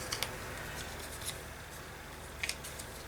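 Scissors trimming the overhanging paper edges of a mixed-media art tile: three crisp, close snips spaced about a second apart over a quiet background hiss.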